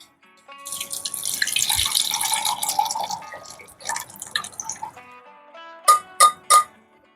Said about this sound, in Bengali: আমি খুলে ছাঁকনিতে জলটা ছেঁকে নিচ্ছি